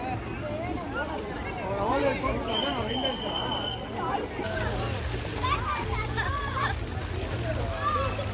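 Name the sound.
family splashing in resort swimming pool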